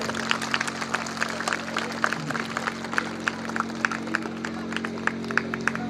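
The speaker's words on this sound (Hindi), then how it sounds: "तालियां बजाइए आप लोग।" An audience at a school annual day claps steadily with scattered sharp hand claps, moderately loud and continuous, with a low hum running underneath.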